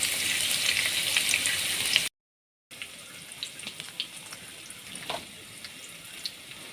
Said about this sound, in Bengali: আর এই যে মরিচগুলো ভাজা শেষ পেঁয়াজ ভাজতেছি